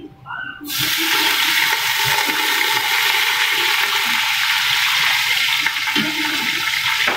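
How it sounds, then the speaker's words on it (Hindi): Water poured into a pot of chicken pulao during cooking, a steady loud rushing pour that begins after a brief quiet moment and continues unbroken to the end. "और अभी इसमें थोड़ा सा मैं डालूँगा पानी।"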